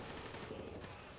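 Rapid gunfire from Call of Duty: WW2 multiplayer rattles in a quick, even burst, faint and distant, lasting about a second.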